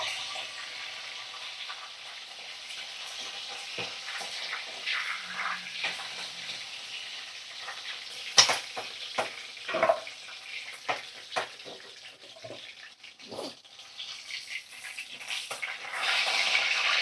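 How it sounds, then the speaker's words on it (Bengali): Chicken pieces dusted with salt and turmeric sizzle and crackle in hot oil, an irregular hiss with sharp pops and spatters, close and moderately loud, with faint stirring and no talk. "এইভাবে দেখো সমস্ত চিকেন আমি তেলের মধ্যে দিয়ে ভাজা ভাজা করে নেব।"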